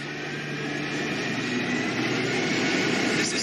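Steady broadband roar of a stolen jet aircraft engine at an airfield in an animated Static Shock episode, continuous and fairly loud with a slight swell toward the end, no talking.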